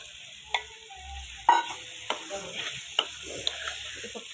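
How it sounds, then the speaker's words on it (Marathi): Potatoes fry in a spiced masala in a pan, a soft sizzle under a series of sharp, close scraping clicks from a spoon stirring the mix at irregular intervals. "चांगलं मसाल्यामध्ये बटाटा मिक्स करून घ्या आपण"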